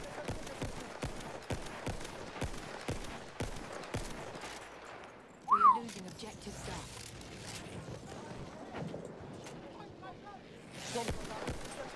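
Battlefield 1 gunfire crackles through a busy alpha-round firefight as a string of sharp, irregular shots and bursts, some close and some distant, while a player talks over the fighting.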